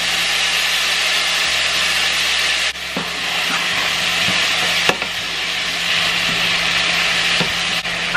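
Broccoli, zucchini and other vegetables sizzle in a pan with low-sodium soy sauce, a steady loud frying hiss with a few sharp clicks and taps of a utensil stirring.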